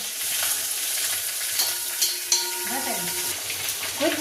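Cumin seeds and chili crackle and sizzle in hot oil, a steady close frying hiss with small pops and spits throughout.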